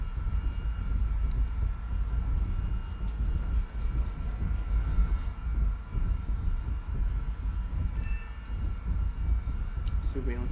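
A surveillance aircraft engine drones in a flight-sim game, a steady, loud, low rumble that continues without a break, with faint clicks on top.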